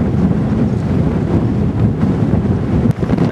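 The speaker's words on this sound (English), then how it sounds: "Notice the wind's 31 miles an hour." Strong wind gusting at about 31 miles an hour roars steadily and loudly across the microphone outdoors, a dense, continuous low rumble with a brief dip near the end.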